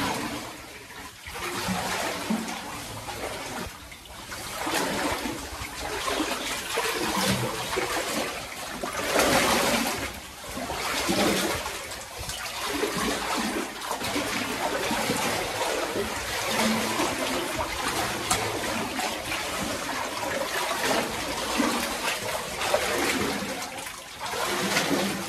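Water runs and splashes steadily nearby in a rural farm setting, a continuous rushing wash, with people talking intermittently over it.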